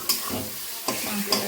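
Mutton chunks coated in ground spices fry and sizzle in a pan with a steady hiss, and sharp scraping stir strokes land near the start, middle and end.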